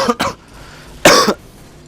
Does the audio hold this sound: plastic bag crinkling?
no